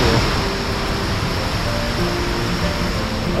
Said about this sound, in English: What a great waterfall here.